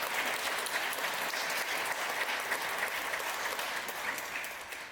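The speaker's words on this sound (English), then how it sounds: "Give me a round of applause." Wedding guests at Rosewood Farms in Elkton, Maryland applauding the couple, a dense, even wash of clapping from a moderately sized crowd that tapers slightly at the end.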